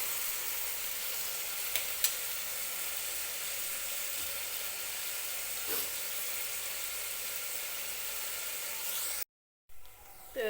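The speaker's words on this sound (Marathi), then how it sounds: "एक 2-3 मिनिटे टोमॅटो मी भाजून घेणार आहे सुरुवातीला." Tomatoes roasting in oil in a pan make a steady, even sizzle and hiss that holds at one level, with a couple of faint knocks and a brief cut-out near the end.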